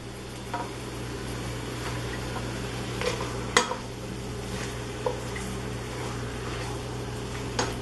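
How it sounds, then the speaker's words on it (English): Ground turkey browning in a pan for chili makes a soft, continuous sizzle close by, with occasional stirring scrapes and light knocks against the pan under a low background hum. "Ground turkey in there. We're going to get it browning."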